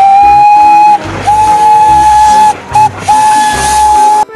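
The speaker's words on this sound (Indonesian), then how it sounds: "di sini ada kereta Thomas teman-teman" A toy Thomas steam train whistle toots repeatedly, long shrill notes broken by short pauses, with a chugging hiss underneath, loud and close.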